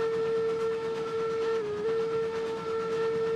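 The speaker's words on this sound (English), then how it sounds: "Trent, blow your whistle. Let's see if I can hear it from here." Steam locomotive whistle in the Railroads Online video game, a single long steady tone sounding loud and continuous with a slight dip in pitch midway, no talking.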